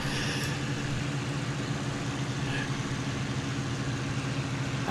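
Simulated Spitfire Mk I engine from the IL-2 Cliffs of Dover flight game, a steady, loud, continuous drone with a throbbing low rumble that holds unchanged throughout, no voices.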